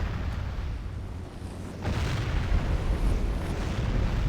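Dense, continuous rumbling roar of mortar and trebuchet impacts in a Medieval 2 Total War siege battle, booms blending into a loud steady wash that swells partway through.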